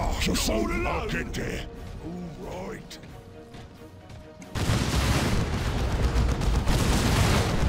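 Turrets in the Warhammer strategy game Dawn of War Retribution fire on enemies with booming shots and rapid gunfire, sparse and mechanical at first, then a dense, loud barrage.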